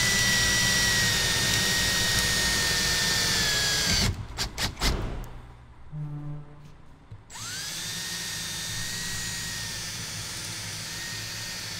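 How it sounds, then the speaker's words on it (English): A power drill whines steadily at high pitch while drilling gently into a Toyota Land Cruiser Troopy's car body, briefly stopping and stuttering with bursts of grinding before the loud continuous drilling resumes. "So I just put my hand over and make sure I drill nice and gently."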